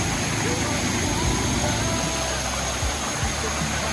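River water rushes steadily beside a campsite at Lata Perahu, Kuala Kangsar, Perak, a loud, unbroken broadband flow with no break across the stretch.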